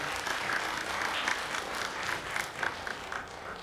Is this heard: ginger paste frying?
no